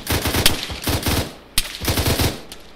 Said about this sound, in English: Fire coming from northeast.